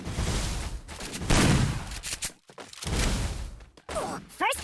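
Gunfire from the mobile shooter Free Fire in a headshot-practice match: bursts of rapid shots and sharp single cracks, moderately loud, with brief gaps and a few quick whooshes between volleys.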